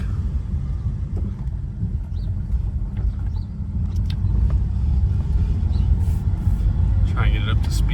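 A 2006 BMW 325i cruising around the block, its engine and road rumble steady and close throughout, swelling slightly as it picks up speed, with wind noise over the cabin.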